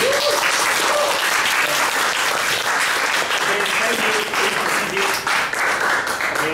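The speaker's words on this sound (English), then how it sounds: "May I invite all the audience stand up again to give him a big applause again." A standing audience applauds at a speech club meeting, loud sustained clapping that fills the room evenly, with a voice briefly audible underneath near the start.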